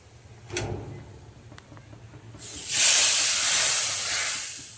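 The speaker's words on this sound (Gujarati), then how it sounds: "તડકો મારવાનો છે ને એવો તડકો. થોડું લાલ કાશ્મીરી મરચું." Hot oil tadka with Kashmiri red chili bursts into a loud, steady sizzling hiss about halfway through, after a few quiet clatters, and holds near and strong to the end.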